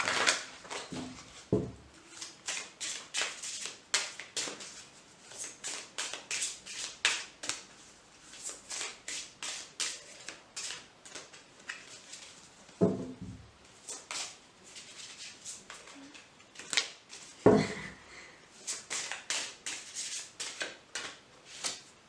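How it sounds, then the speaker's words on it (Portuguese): Tarot cards shuffled and drawn by hand, giving a long run of quick papery flicks and soft slaps at a close, even level, with a few heavier taps as cards are set down. "Vamos tirar 4 cartas."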